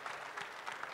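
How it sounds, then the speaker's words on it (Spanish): Brief, faint audience applause after a talk at Campus Party México, a soft steady patter of clapping heard from a distance. "Un fuerte aplauso, la neta estuvo muy padre."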